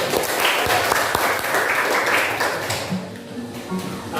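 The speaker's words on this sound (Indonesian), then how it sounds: "Tepuk tangan dulu." Students in a primary-school classroom lesson clap their hands together in a dense burst that holds for about two and a half seconds, then thins and fades into quieter room noise with faint voices.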